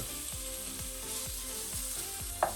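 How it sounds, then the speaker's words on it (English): Pork belly fries slowly in a tablespoon of oil over low heat, a quiet, steady sizzle with soft rhythmic scraping, then a brief sharper clack near the end. "Then we are going to put in our pork belly."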